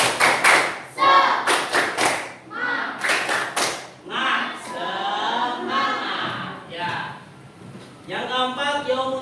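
A group gives a rhythmic spirit clap in an Islamic religious education class during a teacher performance test at UIN Syarif Hidayatullah: several sharp bursts of clapping in patterned bunches, then voices chanting and talking.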